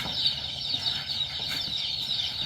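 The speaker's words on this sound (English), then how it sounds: "you can probably hear them chirping" Continuous high-pitched peeping and chirping from a group of baby chicks in a poultry barn, steady and close, with faint rustling underneath.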